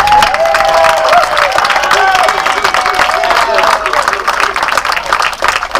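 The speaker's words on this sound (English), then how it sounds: "Before I have him, give me the applause." Crowd applause and cheering at a political meeting in New England, loud and continuous for several seconds, with voices and a whistle-like tone rising above the clapping.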